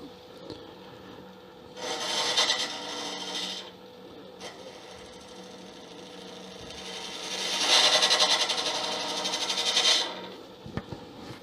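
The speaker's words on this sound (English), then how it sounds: "So I'm going to use a robust 1/2-inch bowl gouge." A 1/2-inch nitrided bowl gouge cuts a spinning resin egg on a lathe, giving two hissing scraping passes, a shorter one early and a louder, longer one later, over a steady motor hum.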